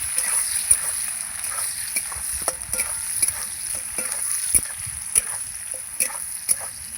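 Potatoes and chopped onion fry in a pan, giving a steady close sizzle with repeated scraping clicks as they are stirred.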